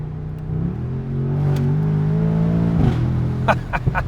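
A Mercedes-AMG S63 Cabriolet with a 603-horsepower engine revs up into a sustained, loud drone that holds steady before dropping off, then gives a few short blips of the throttle, with no talking over it.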